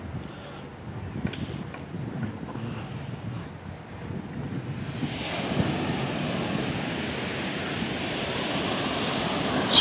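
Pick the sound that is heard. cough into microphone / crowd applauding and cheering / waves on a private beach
waves on a private beach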